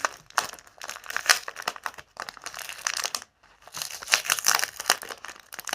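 Paper packaging and toilet paper padding around hoya plants crinkle and rustle close up as a parcel is unwrapped, in busy bursts with a brief pause midway.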